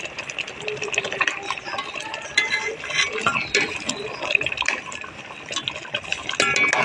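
A boiled potato is lifted out of a pot of simmering lentil dal, with a continuous bubbling, sloshing liquid sound and occasional small clinks of the utensil close by.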